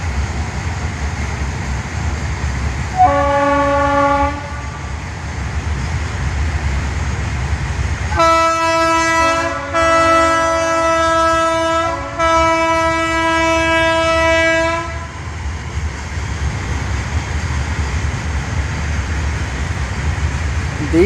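A train passes on a foggy morning, rumbling steadily close by while its horn sounds one short blast and then a long, loud, drawn-out blast with a brief break in the middle.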